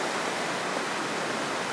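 A river in full spate near a collapsed section of bank, its high volume of water producing a steady, dense roar that stays even and continuous throughout, with no voices present.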